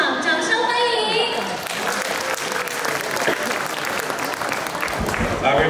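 Audience applause at a charity fundraising gala welcomes a young girl singer to the stage, a steady, full burst of clapping from a crowd that holds evenly for several seconds, with some voices and a music cue audible at the start.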